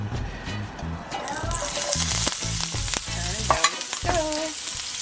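Saltfish sautés in olive oil in a pan, giving a lively sizzle broken by stirring scrapes, close and moderately loud, with someone speaking over it at times.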